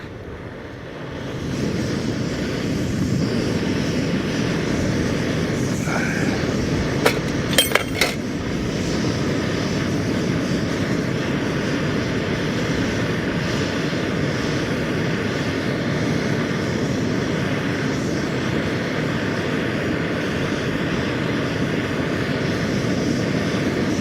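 A steady, loud roar of a compact pocket rocket gas camping stove burner runs continuously after a quiet start, outdoors at a hillside camp, with a few faint metallic clinks partway through.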